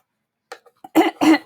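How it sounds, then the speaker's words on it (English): A single person's cough, close and loud: a couple of small throat sounds followed by two strong, harsh bursts in quick succession, alone with no talking. "one of these days my cough will go away."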